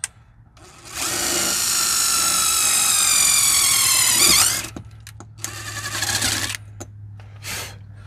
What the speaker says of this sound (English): Now we're just going to drill them out with these self-tapping screws now before we put the mirror on